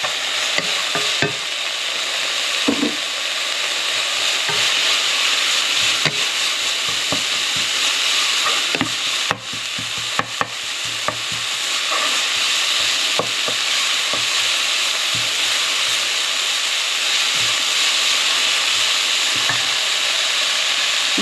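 Garlic sizzling steadily in a hot pan on high heat, a loud continuous hiss with frequent stirring scrapes and clanks of a utensil breaking through, and no voices.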